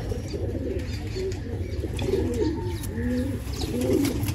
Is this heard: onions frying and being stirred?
no